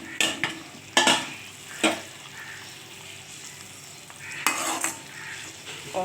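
Fried eggplant pieces going into a pan of yogurt gravy with poppy seed paste, giving several sharp stirring scrapes and clatters over a soft steady simmer.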